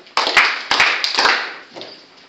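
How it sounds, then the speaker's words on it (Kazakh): A class claps briefly for two pupils, a short burst of several hands clapping close by that fades out within two seconds. "Аяжан мен Ақгүлге шапалақ."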